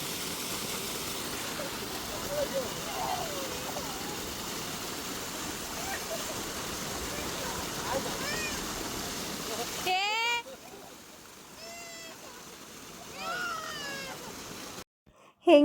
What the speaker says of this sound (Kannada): ಅಷ್ಟೊಂದು ಫೋರ್ಸಾಗಿ ನೀರು ಬರ್ತಾಯಿದೆ